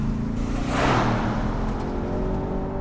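A 2024 Ford F-150 Raptor R with a 10-speed transmission drives hard, its engine a loud, steady roar that swells and shifts pitch as a gear change comes through, close and continuous without talk.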